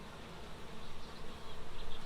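Dense, steady buzzing of honeybees humming in a hive box full of larvae and nectar-heavy comb, a continuous close drone pulsing slightly in loudness with no talking.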